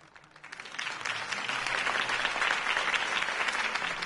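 A crowd bursts into applause, clapping swelling quickly from quiet to a steady, dense roar that continues throughout.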